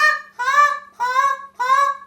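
A short reed honker goose call imitates a Canada goose with four clear, evenly spaced honks, each a rich reedy tone that rises and breaks. The call is close and loud, with no voices.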